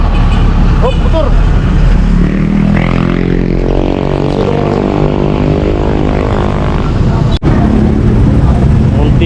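Motorcycle speeding past on a busy city street, a loud rising and falling engine drone sweeping by close to the microphone amid steady traffic rumble and wind noise.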